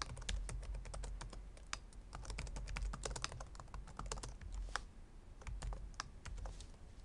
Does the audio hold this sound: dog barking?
no